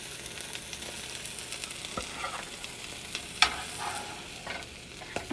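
A finished omelette sizzles softly in a frying pan as a utensil stirs and scrapes to lift it out, with occasional clicks and light taps against the pan.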